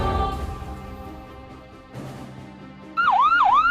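Ambulance siren at a road accident rescue scene: a wailing electronic tone rising and falling rapidly, loud and close, coming in after a stretch of mixed background noise.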